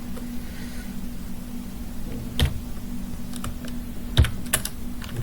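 Java code is typed on a computer keyboard: close, scattered key clicks in short irregular clusters, with a couple of louder keystrokes over a faint steady hum.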